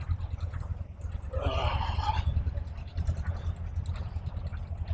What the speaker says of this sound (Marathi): ट्रॅक्टर चाललाय बघ काहीतरी काम चाललंय